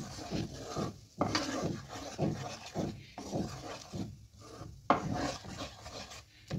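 Butter chicken gravy being stirred in a pan, a spoon scraping and rubbing through thick sauce in repeated close, steady strokes with brief pauses.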